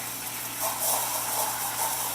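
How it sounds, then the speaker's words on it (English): An espresso steam wand frothing milk for a matcha latte: steady steam hiss with a rising, airy rush partway through, a continuous loud frothing noise with no voices. "you stick the steam wand all the way down in"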